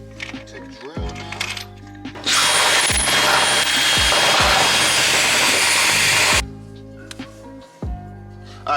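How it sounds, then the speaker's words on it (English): A power drill bores a hole for mounting a winch on a trailer, a loud, steady whine lasting about four seconds, close to the mic, with someone talking before and after. "so I'm good to drill now"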